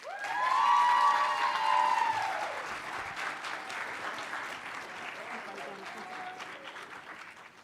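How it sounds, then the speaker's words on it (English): A crowd at a school board of education meeting breaks into sustained applause, loud at first then gradually thinning, with a cheer rising briefly near the start. "we're going to start with a round of applause"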